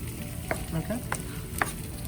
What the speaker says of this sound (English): you can hear our mushrooms are starting to sizzle just a little bit